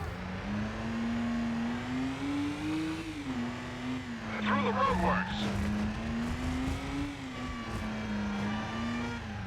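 A car engine in the Stuntman video game drones steadily with pitch rising and falling through a handbrake turn, with brief tire squeal in the middle while someone talks over it.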